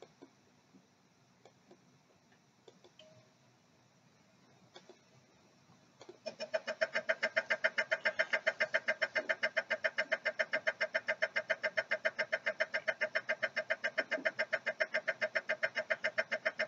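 A Yaskawa Σ-X servo motor cycles at 3000 rpm with fast acceleration and short dwell pauses, giving a regular, rapid train of whirring pulses that starts abruptly partway through and continues steadily and moderately loud after quiet clicks.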